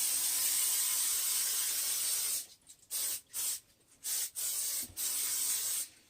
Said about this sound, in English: So we're gonna put the lid back on it. We're gonna spray it.